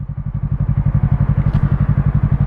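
A motorcycle engine runs steadily on a morning ride, a loud, close, rapid pulsing thump with an even rhythm throughout and no talk.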